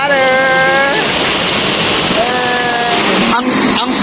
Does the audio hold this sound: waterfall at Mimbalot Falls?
yes